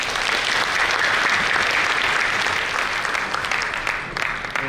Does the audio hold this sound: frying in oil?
no